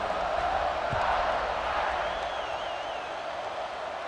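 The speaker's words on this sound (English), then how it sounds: "this crowd is feeling themselves after that last drive." A football stadium crowd cheers and roars after a scoring drive as the kickoff unit lines up, a dense continuous wash of voices with a faint whistle-like tone drifting above it.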